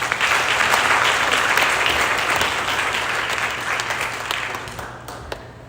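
An audience applauds dancers Mahika and Ritika at a dance program, a dense, steady round of clapping close by that holds for several seconds and gradually thins toward the end.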